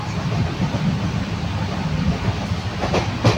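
Rumble and rattle of a moving train, steady and close, with the clatter of the carriages swelling slightly near the end.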